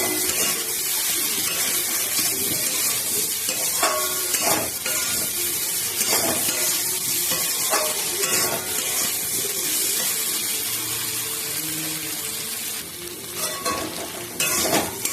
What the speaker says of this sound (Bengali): ভেন্ডিগুলোর সাথে একটু ভালো করে কষিয়ে নিতে হবে, যাতে ভেন্ডির কাঁচা গন্ধটা